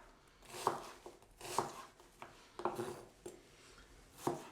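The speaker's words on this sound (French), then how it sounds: "je vais couper mon oignon" A knife chops an onion on a board in about five steady, distinct strokes, each a close, crisp thud with a short scrape in the quiet between.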